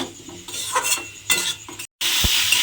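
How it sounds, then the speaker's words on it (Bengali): Spice masala for a raw papaya curry fries in oil while a spatula stirs and scrapes the pan in irregular strokes, with a brief silent cut before the sizzle resumes louder. "এবারে খুব ভালোভাবে কিন্তু এটাকে কষিয়ে নিতে হবে যতক্ষণ না তেলটা ছেড়ে যায়"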